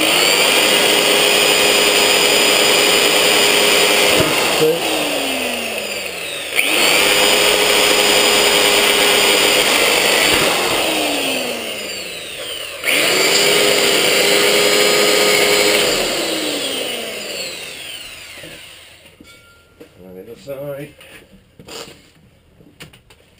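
A power tool blade cuts into a steel propane tank in three long, loud grinding passes, each ending in a descending whine as the tool spins down, followed by quieter handling clatter.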